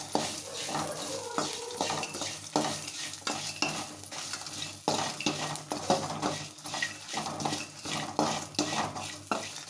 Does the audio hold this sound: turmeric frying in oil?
yes